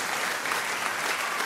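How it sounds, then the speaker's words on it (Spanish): Applause follows a song and rises as a steady, dense clapping that fills the short moment at close, even loudness. "Démele un fuerte aplauso a ese tema que acaba de sonar ahí."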